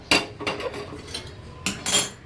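A metal spoon scrapes and clinks against a pan while mixing roasted black pepper and cumin, several sharp clatters at irregular intervals, close and fairly loud with no talk.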